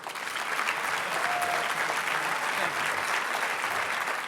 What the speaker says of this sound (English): So please give a thunderous round of applause to Ken Fasola.